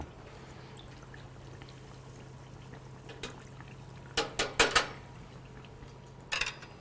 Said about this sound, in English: A little bubbling.